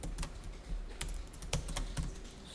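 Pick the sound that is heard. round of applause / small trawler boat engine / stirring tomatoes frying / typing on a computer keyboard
typing on a computer keyboard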